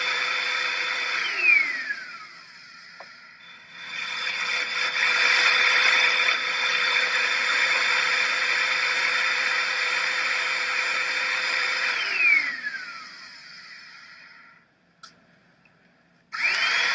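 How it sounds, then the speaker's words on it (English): A cigarette smoking machine runs with a steady mechanical whine that rises and falls in pitch as it draws smoke, cutting out briefly near the end before starting again. "they created this device, don't ask me how, that's going to pull the smoke from each cigarette into the machine"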